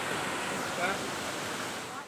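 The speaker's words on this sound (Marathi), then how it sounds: "मागे वॉटरफॉल चालू आहे" A waterfall pours at Manudevi in the Satpuda hills, a steady, dense rushing roar of falling water that stays constant and fills the scene, without talk.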